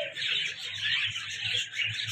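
A breeding pair of lutino ring-neck parrots gives continuous shrill, chattering calls nearby, loud and steady for the whole moment.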